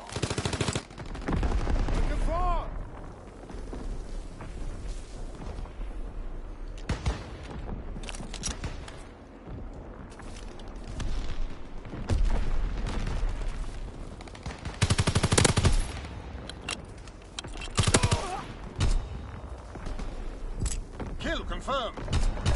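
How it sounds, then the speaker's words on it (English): A fighter plane strafing in a PS4 shooter, dense bursts of rapid machine-gun fire and explosive gunshots filling the mix, with game voices and other battle sounds layered over and between the volleys. "Fighter pilot inbound, strafing the target."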